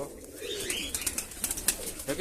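Pigeons coo softly in low, throaty murmurs close by, with faint rustling and light clicks around them and no talking.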